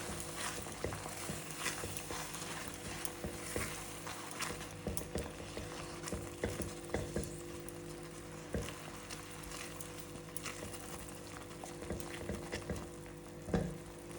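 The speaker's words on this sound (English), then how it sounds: "Let's wait for it to melt. The butter melting slowly." Butter melts in a pan with jeera powder for a Punjabi dish, giving a steady, soft sizzle and frying crackle that carries on throughout with small pops.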